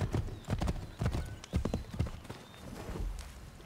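A horse trots in the video game Assassin's Creed 3, its hooves clip-clopping in a quick, even rhythm, close and clear with no talk over it.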